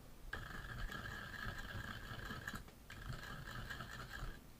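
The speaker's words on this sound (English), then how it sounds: "muddle it all together" A muddler grinds sugar and bitters in a cocktail glass for a root beer old fashioned, making a steady, close gritty scraping in two long bursts split by a short pause.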